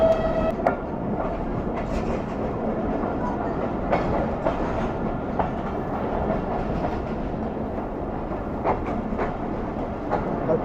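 A passenger train runs on rails through heavy winter fog toward Mohenjo-daro, with a continuous close rumble and clatter of wheels and a few brief sharp clicks from the track.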